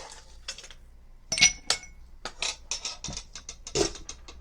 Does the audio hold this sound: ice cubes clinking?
yes